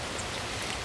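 Rain falling in the woods during spring mushroom hunting, a steady, even hiss of drops pattering on leaves and ground, close and continuous with no voices.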